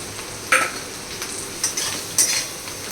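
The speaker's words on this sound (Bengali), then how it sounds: "দিয়ে ভালো করে নাড়বো, এর আবার এটাকে ভাজবো।" Chowmein with onion and capsicum stir-fried in a pan, a steady soft sizzle broken by a few sharp scrapes and clinks of the spatula against the metal.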